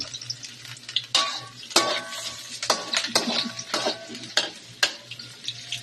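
Onion and garlic frying in cooking oil in a pan for adobo, a steady close sizzle broken by repeated sharp clatters of a utensil stirring against the pan, with no talking.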